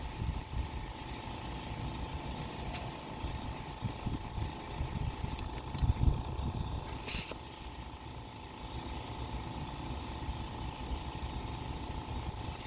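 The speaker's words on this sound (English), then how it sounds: "Not a very fast compressor." A slow portable air compressor at a campground inflates a worn car tire: a steady, low mechanical drone runs throughout, with a few faint clicks and bumps.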